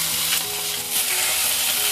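Garlic and shallots sizzle and crackle steadily in hot oil in a pan after fish has been fried, a dense continuous frying hiss with occasional stirring scrapes, close and alone.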